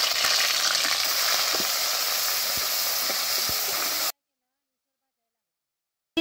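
Steady loud sizzling of grated onion dropped into hot oil with mustard seeds and cumin, continuous hiss with small crackles, cutting off abruptly after about four seconds.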